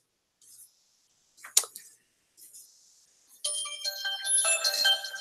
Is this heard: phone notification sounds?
yes